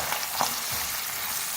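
Two medium onions, about 200 grams, hit hot oil for a potato and capsicum curry, producing a loud, steady, close sizzling hiss that fills the brief moment with no talk.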